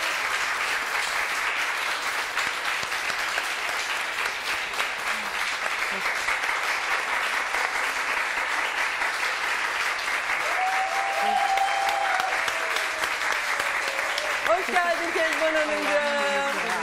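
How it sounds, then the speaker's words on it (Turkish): Studio audience applause on a live Turkish daytime talk show as a guest is welcomed, dense sustained clapping filling the room for a long stretch, with faint voices and a brief tonal sound near the end. "Onu da alalım mı bir stüdyomuza alkışlarla?"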